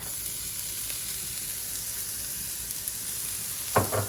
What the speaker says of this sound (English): So now I'm gonna add some shallots.